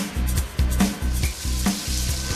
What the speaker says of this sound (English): switch this on and you can cook all 40 chicken breasts in one go, seal them in one